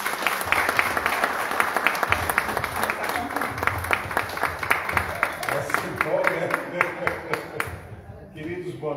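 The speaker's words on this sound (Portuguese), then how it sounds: "Uma salva de palmas para Jesus." A church congregation claps during a worship service. Crisp, rhythmic applause is heard with some voices mixed in, and it thins out near the end.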